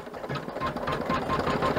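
Embroidery machine stitching through vinyl on an in-the-hoop luggage ID tag, a fast, even needle chatter that is steady and close, with no voices.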